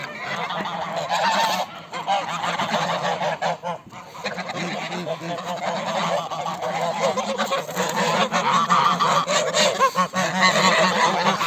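Geese kept in a backyard garden honk loudly and almost continuously, several birds calling over one another up close with overlapping nasal cries and barely a pause throughout.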